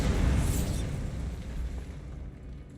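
A Bombarda spell in a wizard video game goes off as a deep, booming explosion that swells at once and then rumbles away over a few seconds, with nobody talking.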